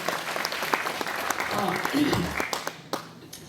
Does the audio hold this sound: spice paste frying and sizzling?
no